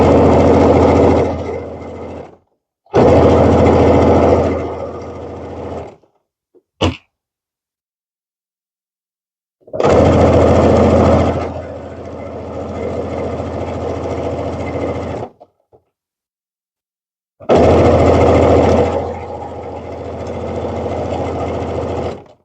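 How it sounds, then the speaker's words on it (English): Sewing machine stitching a Halloween pillow: loud, steady motor whirring in several runs of a few seconds each, separated by silent pauses and one brief blip, close and alone. "I'm just going to start right here at the very top and just sew that down"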